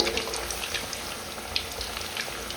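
Jilebi fish caught at the Kaveri dam frying in masala in a pan, a steady close sizzle with faint crackles and occasional pops, no voices.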